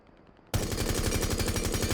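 Sledge's rifle fitted with a compensator in Rainbow Six Siege, opening up after a brief quiet into a loud, rapid full-auto burst of evenly spaced shots that continues to the end.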